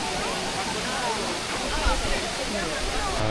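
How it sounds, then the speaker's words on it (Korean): Roaring waterfall at Plitvice National Park in Croatia, the country's highest at 87 m, heard as a steady, loud broadband rush of falling water that fills the scene without pause. "이게 이번 코스의 마지막 폭포가 되겠습니다"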